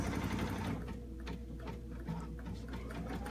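A sewing machine ticks through the last few stitches on a Kimberbell cinch bag, with a close rhythmic clatter over a low motor hum and no voices.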